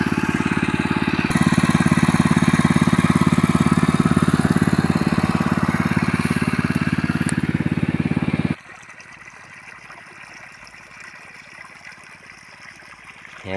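An engine-driven water pump filling a sugarcane field runs with a loud, steady, chugging drone, then cuts out abruptly, leaving a quieter wash of trickling water and outdoor ambience.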